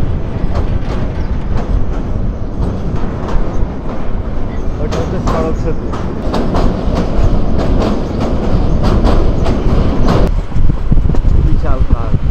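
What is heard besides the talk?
moving train on the railway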